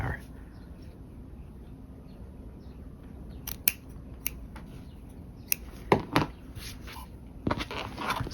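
Scissors trim fabric while a pocket is being sewn: a quiet, uneven series of short snips and small scrapes against a low room hush.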